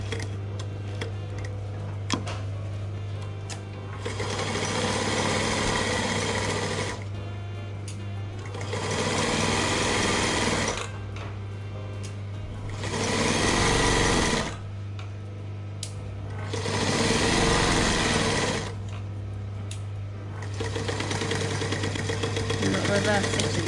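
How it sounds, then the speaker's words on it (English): A sewing machine stitches backwards and forwards over tape on a fabric crayon roll, running in several bursts of steady rapid whirring with quiet pauses between, a low hum beneath. "When you come to the tape, sew backwards and forwards over it to make it stronger."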